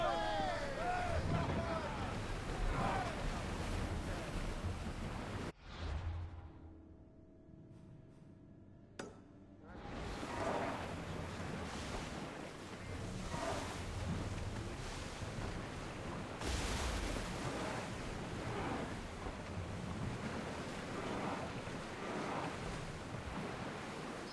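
An ancient Greek sailing ship crosses the open sea in Assassin's Creed Odyssey, with waves washing and wind rushing throughout, briefly quieting before the surf returns, while voices speak over it.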